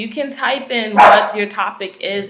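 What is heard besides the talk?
dog barking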